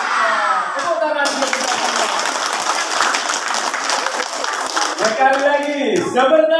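Elementary school children at an Isra' Mi'raj celebration clap their hands together in a lively burst lasting several seconds, framed by an adult voice speaking before and after.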